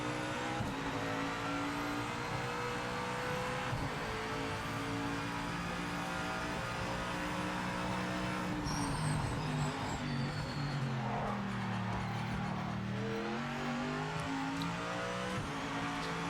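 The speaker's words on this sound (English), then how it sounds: "Definitely can tell the engine braking is very, very harsh." Race car engine in the video game Project Motor Racing, loud and continuous, revving up and dropping in pitch through harsh engine-braking downshifts, with a rising whine as it accelerates again.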